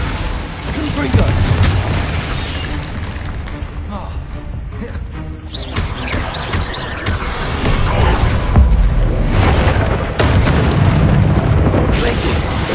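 A Confringo fire spell bursts in Hogwarts Legacy, with loud booming blasts and crashing impacts in a chaotic battle, while a voice calls out spell names over the din.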